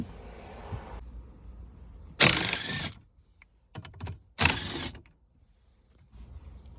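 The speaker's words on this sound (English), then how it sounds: "Remove two top 7mm bolts." Ratchet loosening the upper 7mm bolts on the glove box of a 2017 Ford Fusion, heard as two loud bursts of rapid clicking a couple of seconds apart, with a few faint clicks between them over a quiet background.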